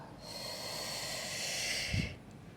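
Breath exhaled steadily through the nose during an abdominal exercise, a soft, close, airy hiss lasting about two seconds and ending with a brief low puff.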